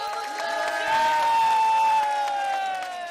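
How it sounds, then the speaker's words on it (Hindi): Large rally crowd in Azad Kashmir applauding and cheering at a political speech, steady dense clapping with whoops that swells louder in the middle and stays sustained throughout. "इसको एक दफा इसके लिए ताली बजा दो।"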